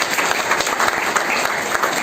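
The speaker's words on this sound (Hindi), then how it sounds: "अपने लिए तालियां बजाओ, खुद के लिए।" A crowd at a Hindi-language gathering claps together in a brief, dense burst, steady and fairly loud throughout two seconds with no voice over it.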